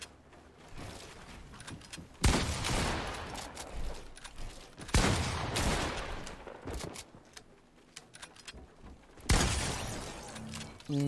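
Three heavy, booming sniper rifle shots in Fortnite, spread several seconds apart, each with a long echoing tail over faint background game sound.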